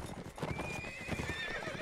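A horse in the Mount & Blade Warband video game clip-clops at a gallop, then neighs loudly with a rising whinny, over faint background game noise.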